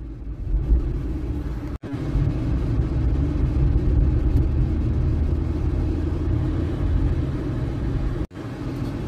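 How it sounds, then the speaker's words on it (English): A room air conditioner runs at full blast in a Las Vegas hotel room, a steady, loud low rumble and hum that fills the whole clip with only two brief dropouts. "And sorry for the little background noise you hear right now. You've been hearing in the vlogs, it's my AC."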